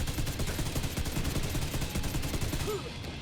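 Ravenous exotic rifle in Division 2 firing fully automatic: loud, close, continuous rapid-fire bursts that run unbroken for the full stretch and ease off slightly at the end.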